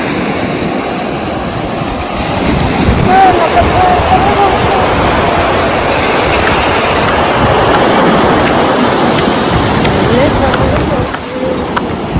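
Steady, loud roar of sea surf washing in continuously on Ganeshgule Beach, a broad rushing noise with no breaks, and faint voices now and then beneath it.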